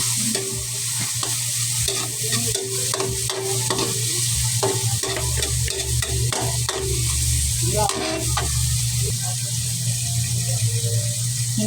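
Pork sautéing in a pan for sinigang, a steady close sizzle of frying with intermittent scraping and stirring clatter from a utensil, continuous and without talk.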